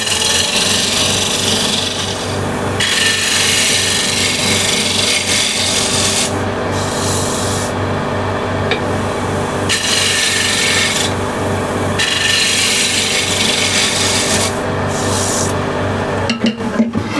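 A card scraper shaving Osage orange wood to clear tear-out on a plate, long raspy scraping strokes in repeated bursts with short pauses between, close and loud, no voices.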